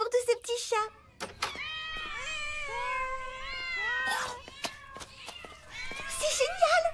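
Several cats meow in a veterinary lab, high-pitched cries rising and falling in overlapping calls, one long wavering meow in the middle, with short clattering noises and a voice breaking in at the start and end.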